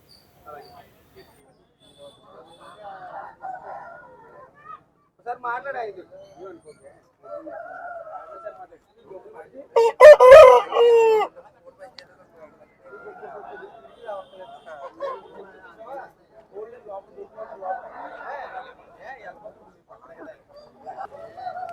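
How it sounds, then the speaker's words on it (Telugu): Roosters crow and hens cluck at a country chicken market, with one loud crow standing out amid scattered bird calls, while people talk nearby throughout. "ఈ వారం మంచి పెట్టలు మంచి కోడి పుంజులు అయితే వచ్చాయి"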